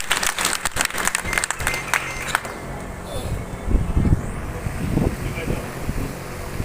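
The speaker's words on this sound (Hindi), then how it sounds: "एक बार जोरदार तालियां जहां भी आप बैठे वहां से लगातार बजती रहना चाहिए" Sustained applause from a Congress party meeting audience at a block-level gathering in Biaora, loud crackling clapping filling the first couple of seconds before thinning into scattered claps and low crowd rumble.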